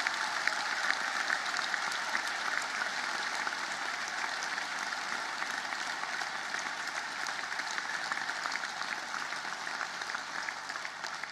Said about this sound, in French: ce soir, nous leur devons un tonnerre d'applaudissements